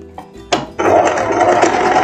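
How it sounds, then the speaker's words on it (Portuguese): A sewing machine stitching elastic onto a short lace dress: a couple of soft handling clicks, then the motor starts and runs in a steady, loud, close whirring stitch burst for more than a second, with no voices. "E agora a gente vai já costurar para você não perder essa pontinha do teu elástico"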